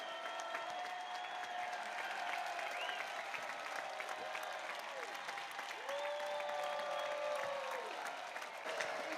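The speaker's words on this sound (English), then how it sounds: "The crowd is roaring." A crowd cheers and applauds at a PBA bowling event, a continuous roar of clapping and voices with whoops and tonal calls rising above the din.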